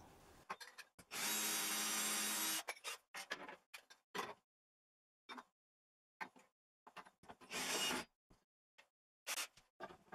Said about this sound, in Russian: Сверлю направляющие отверстия и фиксирую стойку тремя саморезами.